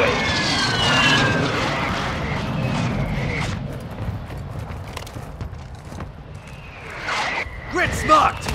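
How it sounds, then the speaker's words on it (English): A strike aircraft roars overhead in the Call of Duty Warzone battle on Ashika Island, a loud broadband engine rush with a fading whine. Game voices call out throughout. "Friendly airstrike in the AO."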